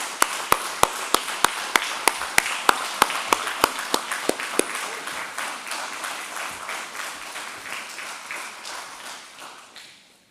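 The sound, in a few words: audience applause for event employees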